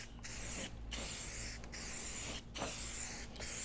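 Clear coat sprayed onto a car headlight from a can, a steady close hiss in even passes broken by a few short pauses, with no talking.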